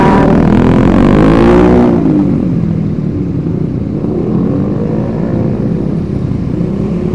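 Motorcycles and cars crawl through heavy, jammed traffic. A loud engine revs and then fades, leaving a dense, continuous rumble of nearby motors with no speech.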